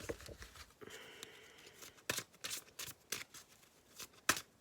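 Oracle cards are shuffled and drawn from a deck in a quiet room, with soft riffling, papery slides and a few crisp flicks and taps, faint and close.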